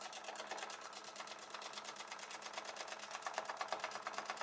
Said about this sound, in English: you don't need the machine to be sewing super fast